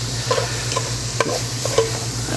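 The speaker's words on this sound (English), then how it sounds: "So we're just going to stir that in, let all that bacon fat and onion and all that stuff kind of coat the ham." Diced Virginia ham is stirred into bacon fat and onion in a pot for corn chowder. A steady low sizzle runs throughout, broken by a few soft scraping stirs spaced roughly half a second apart.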